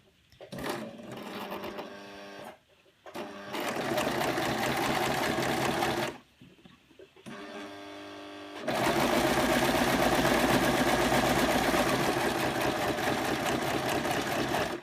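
A domestic sewing machine runs top stitching at a long stitch length, starting in short bursts with brief pauses, then settling into a loud, steady, rapid mechanical whirr and clatter.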